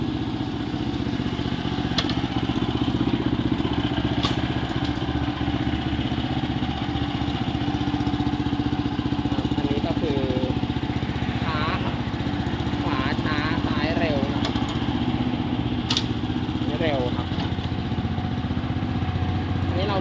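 A small petrol engine on a Kubota T702 7-horsepower rotary tiller runs steadily at low idle without throttle for a long stretch, a constant close rattling drone, with occasional clicks and faint speech.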